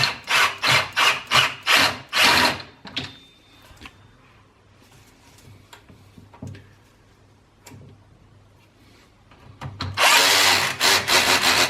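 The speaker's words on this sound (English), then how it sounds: "Double check the bolts and torque them down." Brake disc bolts on an electric scooter are tightened with a power tool: a close series of pulsing, rhythmic bursts, a quieter stretch of small handling clicks, then another loud sustained run.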